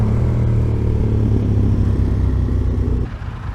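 Deep, throbbing burble from an idling Ducati motorcycle engine, steady and close with a low rhythmic pulse, easing slightly near the end.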